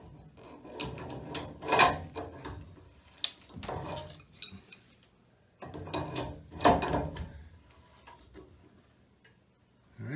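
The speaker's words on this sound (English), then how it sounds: "now use a crescent wrench or whatever you have to tighten this" A crescent wrench tightens a new pressure relief valve on a hot water tank, giving bursts of metallic clicks, ticks and clanks in two clusters with quiet gaps between, close up and with no talk.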